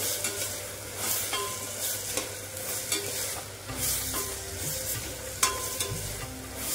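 Tomatoes sautéing in a pan for pav bhaji, a steady sizzle and fry with repeated scraping and stirring strokes from a spatula, close and continuous, with no voices.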